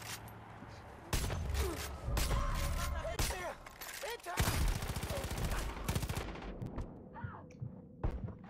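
Rapid bursts of gunfire from the video game Far Cry 5 crackle in quick succession, loud and close, with scattered mechanical clicks and a voice speaking over the shooting.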